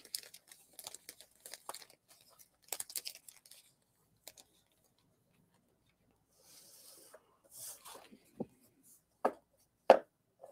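Plastic bag pulled out and handled while preparing small paintings for framing, heard as scattered rustles and crinkles, then a few louder, sharper crackles toward the end, fairly close with quiet gaps between.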